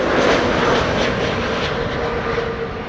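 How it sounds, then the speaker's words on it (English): A KLM Airbus A321 arriving from Paris at Amsterdam Schiphol roars past with a broad, steady jet engine rush that fades slightly toward the end, loud and alone. "That was KLM A321. Coming in from Paris-Charles de Gaulle."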